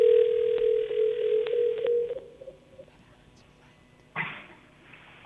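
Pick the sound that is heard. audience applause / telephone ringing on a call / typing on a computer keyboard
telephone ringing on a call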